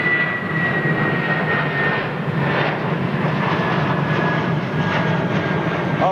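Amiri royal Airbus A340-600 departing London Heathrow, a steady loud jet engine roar that holds broad and rumbling throughout with a faint whine above it, no voices.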